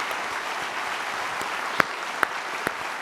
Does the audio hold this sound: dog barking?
no